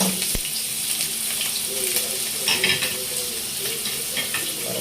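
Ingredients for Ilocano sinanglao fry and brown in a pan with a steady, close sizzle and occasional stirring scrapes throughout.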